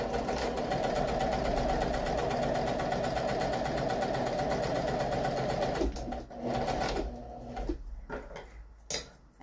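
A sewing machine runs steadily, stitching a French seam with the wrong sides of the fabric together; the loud, even motor whirr holds for about six seconds, then stops and gives way to brief handling clicks.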